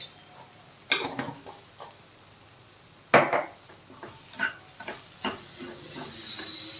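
Tomato being stirred into okra frying in a pan, heard as scattered utensil clinks and scrapes against cookware, with a few louder knocks at intervals over a quiet background.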